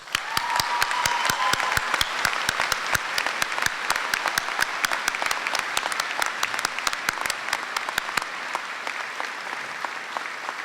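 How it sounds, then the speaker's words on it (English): Graduation ceremony crowd at a high school applauding honorees, a long, loud sustained round of clapping with sharp individual claps standing out close by, gradually thinning toward the end. "Let's give them a round of applause."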